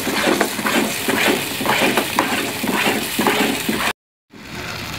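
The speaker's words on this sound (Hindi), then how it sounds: "चम्मच को जो है वो लगातार हिलाते रहना है, कुछ सेकंड के लिए भी नहीं रुकना।" A spoon is stirred continuously through a dish cooking in a pan, making rhythmic scraping and sizzling strokes close by before a brief cutoff, then a quieter sizzle.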